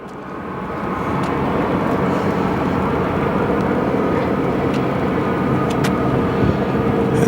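An American Airlines A319 airliner turning onto runway 25 at Phoenix Sky Harbor Airport, with a steady, loud jet engine roar that swells during the first second and then holds constant, heard from outside with no voices.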